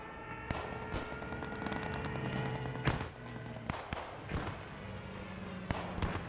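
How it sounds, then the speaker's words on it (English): Stuka dive bombers strike in the WWII shooter Post Scriptum, heard as a string of sharp, loud bursts and cracks that hit at irregular intervals over a constant rumble of battle. "We're going to hear Stuka coming in."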